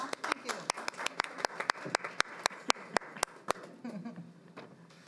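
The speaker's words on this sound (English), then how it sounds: "So just want to give a round of applause for that." A round of applause at a school board of education meeting, a single clear rhythmic clapping at close range, about twenty sharp claps in steady succession that fade toward the end, over faint room talk.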